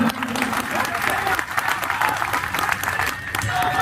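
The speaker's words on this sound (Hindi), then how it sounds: "जोरदार तालियां, समर्थन" Steady, dense applause from a large crowd at an outdoor political rally in Jhunjhunu, Rajasthan, sustained and fairly loud throughout with a broad wash of clapping and crowd noise.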